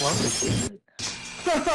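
Glass shatters in a sharp, loud crash as a vessel explodes while its air is being pumped out. Voices talk around it before and after.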